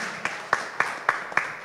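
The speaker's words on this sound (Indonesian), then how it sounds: "tepuk tangan dulu dong untuk mereka yang juara" Slow, even clapping at an office anniversary ceremony, six or seven distinct claps about a quarter second apart, close and moderately loud, honouring the winners.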